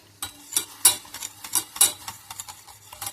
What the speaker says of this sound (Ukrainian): я додаю соду сюди, чайну ложечку і починаю помішувати